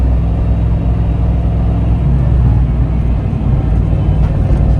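Car fitted with a 500HP T5 transmission driving, a steady loud engine drone with low mechanical rumble and road noise from inside the cabin, continuous without pauses.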